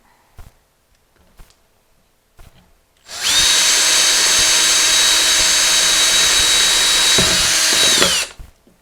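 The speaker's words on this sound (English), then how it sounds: "I got my Harbor Freight drill bit set here, and I'm going to try the 1/4 inch bit first" A Harbor Freight 1/4 inch drill bit bores into a plastic planting pot, a loud continuous high-pitched whine lasting about five seconds before stopping sharply, with a few soft handling clicks before it starts.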